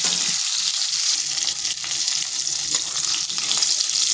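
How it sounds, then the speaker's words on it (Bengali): Pointed gourd (patol) shallow-frying in oil sends up a loud, dense, continuous sizzle close by, with faint clatter underneath. The sizzle holds steady throughout with no voices. "পটলটাকে হালকা ভেজে নিয়েছি"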